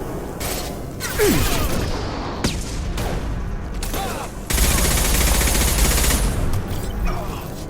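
Rapid bursts of gunfire ring out in Mass Effect Legendary Edition, a loud battle with repeated volleys, booms and mechanical clatter, swelling into a dense continuous barrage in the second half.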